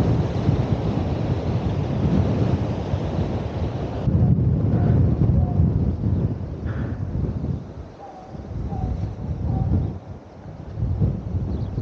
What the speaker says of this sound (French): ça souffle